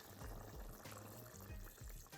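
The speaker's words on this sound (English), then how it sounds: "so we're gonna go in with our coconut milk now" Coconut milk made from a coconut packet and warm water is poured into a simmering pot of coconut curry chicken soup, giving a steady, close, gurgling liquid pour without any talking.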